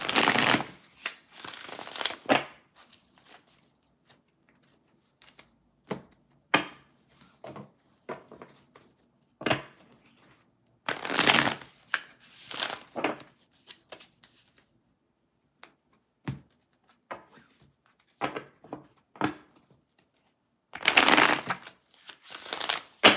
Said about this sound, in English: I'll be shuffling the cards 3 times